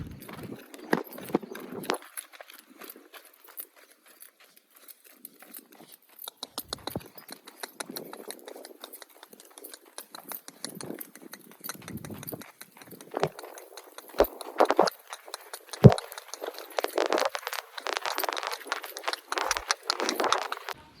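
A mare's hooves clip-clop at a walk, irregular and fairly close, with quiet gaps and clusters of soft knocks over a calm background.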